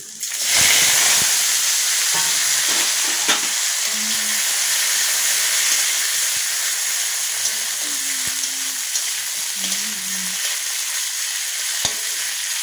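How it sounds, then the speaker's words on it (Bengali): Boiled drumsticks (moringa pods) tipped into a pan of lightly fried green chilli, setting off a loud steady sizzle and hiss that continues for the whole stretch, with a few faint clinks from the pan. "লঙ্কাটা আমি হালকা করে ভেজে নিয়ে এবার আমি সিদ্ধ করে সজনাগুলো সব দিয়ে দিলাম"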